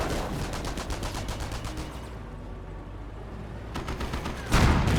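An aircraft strafing run in Company of Heroes 1 brings loud, rapid machine-gun fire that rattles for about two seconds, eases off, then resumes with a heavier burst and impacts near the end.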